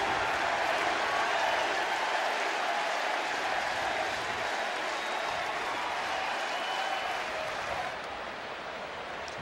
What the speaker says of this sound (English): Crowd buzzing after the grand slam by Ramirez that's given the Red Sox a 5-run lead here in the second.